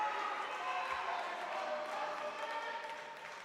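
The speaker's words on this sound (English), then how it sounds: "the crowd is giving their support to Christian Ian Doken" A crowd at a powerlifting competition cheers and roars in steady support of a lifter, a continuous wash of voices that fades slightly near the end.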